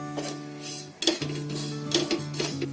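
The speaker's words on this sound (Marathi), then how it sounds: "तीळ असे चांगले भाजून घ्यायचे जरा." Sesame seeds and grated fresh coconut dry-roast in a metal pan as a utensil clinks and scrapes against it. The knocks are irregular over a faint steady background, with no talking.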